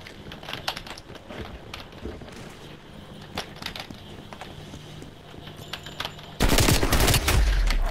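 Rapid automatic gunfire from the video game Call of Duty Black Ops Cold War: sustained bursts of shots crackle throughout, ending in a much louder, denser volley during the final second and a half.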